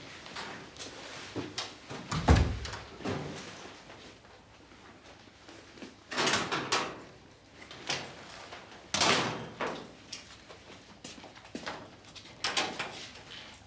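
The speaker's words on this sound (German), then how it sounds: "Mach die Tür zu, Mädchen." A door being shut indoors, with several knocking, bumping thuds spread across the stretch and a firmer impact early on, set against quiet room background with no talk.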